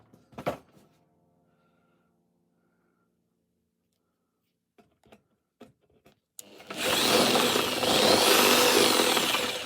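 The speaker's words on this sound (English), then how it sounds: "Anyway, drilling." Scattered knocks and clatter, then a loud, rough electric drill grinding continuously through material while building a cigar box guitar for the last few seconds.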